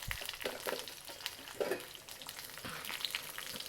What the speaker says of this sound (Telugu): ఆయిల్ వేసేసి కొద్దిగా మినప్పప్పు శనగపప్పు పచ్చిమిరపకాయలు